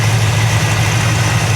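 A 300-horsepower 327 V8 Corvette engine idles steadily and loudly up close, a deep continuous rumble with no talk over it.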